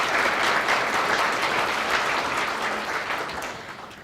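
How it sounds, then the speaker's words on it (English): A full audience applauds at an academy graduation ceremony for PCO Core Academy and College of the Desert graduates, with steady, dense clapping that eases slightly toward the end. "Please give them a round of applause."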